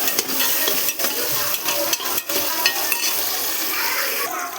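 Vegetables and tomatoes are stirred in a pan, giving a close, busy sizzle with repeated scraping and clinking strokes of a spoon against the metal, and no voices.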